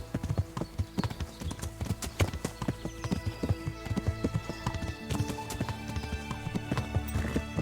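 Rapid, steady hoofbeats of a galloping horse in the video game Kingdom Come: Deliverance, close and clear, pounding in a continuous rhythm with no voices.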